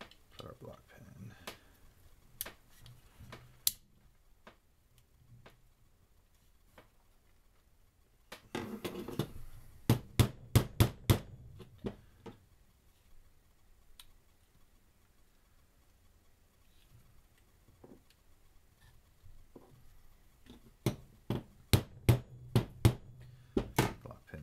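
A Glock locking block pin is worked into place with small, sharp metal taps and ticks, scattered at first, then in quick clustered bursts, close and fairly quiet, with faint talking in the background.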